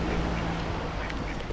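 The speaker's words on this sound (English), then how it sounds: "Check out all these ducks." Ducks quack on Manoel Island in Gzira, Malta, a few calls rising faintly over steady outdoor background noise.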